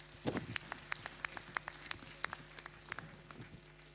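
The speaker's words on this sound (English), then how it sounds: "Let's give him a big round of applause." Sparse, faint clapping at a formal anniversary event for the President, individual claps falling in a loose, irregular rhythm rather than a full ovation.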